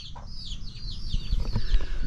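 A chicken in Kampot, Cambodia, giving a quick run of close clucks and squawks, with a few soft thumps beneath, no talking.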